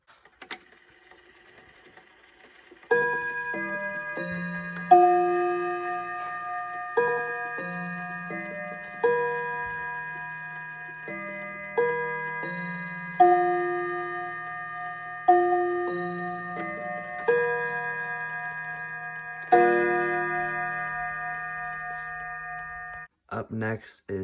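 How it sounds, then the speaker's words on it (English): A 1921 mahogany Junghans round-top clock with Westminster chimes and a chord-striking feature rings out nearby. It sounds a series of resonant chime strikes at regular intervals, with each tone decaying slowly over a faint steady tick. "this round top 1921 Mahogany Johanns Westminster chimes with a chord striking feature"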